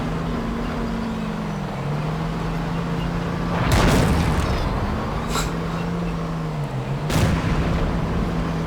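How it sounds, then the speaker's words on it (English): Tank cannon fire in a video game battle: a steady engine rumble underneath, then a loud booming shot around the middle followed by smaller cracks, and a second sharp blast near the end. "Watch this little exchange of fire here."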